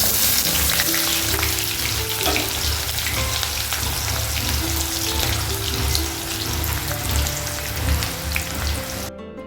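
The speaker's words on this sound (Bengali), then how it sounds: "পেঁয়াজগুলোকে ভাজতে বসিয়েছি, দেখছি কতটা লালচে হয়ে এলো।" Onions frying in oil in a wok, a loud, dense, continuous sizzle close by, crackling steadily without pause until it cuts off at the end.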